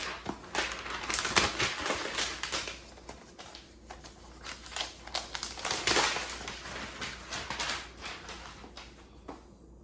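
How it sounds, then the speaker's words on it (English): A 14-inch MacBook Pro M2 is lifted out of its packaging with close, crisp bursts of rustling, crinkling and scraping material that come in uneven clusters, some louder, with quieter pauses between and no talking. "this is my first time taking out of the packaging and getting a good look at it"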